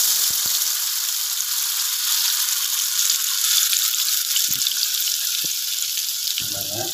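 Sambal sautéing in a pan gives off a loud, unbroken hiss and sizzle throughout, with a few faint knocks of a utensil near the end.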